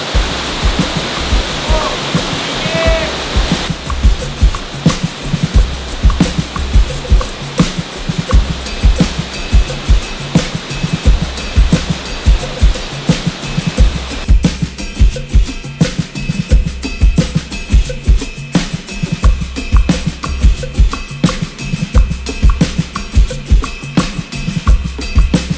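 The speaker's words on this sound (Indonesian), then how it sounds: "Ini boleh bilang air terjun pribadi ya." A small private waterfall beside a rice-field campsite roars steadily and close, a dense unbroken rush of falling water with a voice occasionally heard under it.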